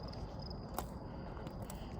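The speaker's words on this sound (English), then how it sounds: "And I'm hearing some crickets" Crickets chirp at night beside railroad tracks near an interstate, a faint, steady high trill over low rumbling background noise, with one brief soft thump partway through.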